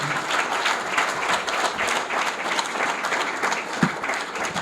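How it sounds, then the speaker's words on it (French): Steady applause from a crowd, dense and continuous hand clapping at moderate distance throughout. "vous demandant d'applaudir les personnes que vous avez devant vous"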